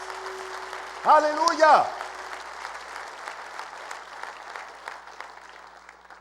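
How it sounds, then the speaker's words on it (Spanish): Church congregation applauding at a worship service, a steady crowd clapping bed running throughout, with a voice shouting briefly over it near the start. "Dale el mejor aplauso que le puedas dar al Rey de Reyes y Señor de Señores."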